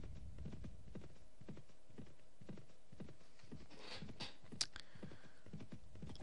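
Horses gallop in the video game Mount and Blade Warband, rapid rhythmic hoofbeats thudding continuously at a fairly quiet level, with a few brief sharp clinks near the middle.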